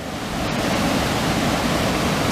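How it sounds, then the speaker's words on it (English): A waterfall on a rainy day roars as a steady, dense rush of falling water, loud and continuous without breaks. "So here I'm going to capture the waterfall."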